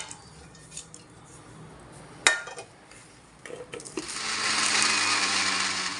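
A kitchen mixer grinder grinds roasted peanuts into powder for peanut chutney. A few clinks and a sharp knock come first, then the motor rises into a loud, sustained grinding roar close by.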